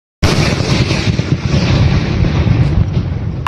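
A loud thunder firecracker, an idi vedi, goes off with a sudden blast that becomes a long, rough, roaring rumble lasting several seconds, heavy and close, with no voices over it.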